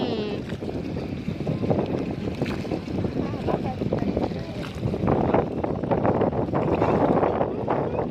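A small rowing boat moves across water with wind buffeting the microphone and water sloshing, while voices are faintly heard in the background.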